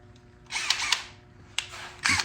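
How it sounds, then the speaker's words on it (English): A power drill drives Phillips screws on a Honda Rancher 350 ATV, whirring in short bursts, spinning up and stopping several times, close and fairly loud. "I'm lazy, so I'm gonna use a drill"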